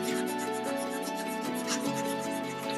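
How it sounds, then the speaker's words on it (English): A colored pencil rubs across paper while white is blended into red, giving a close, steady scratchy scraping made of repeated back-and-forth strokes. "So now we will start coloring from this white side and we will go on the red side"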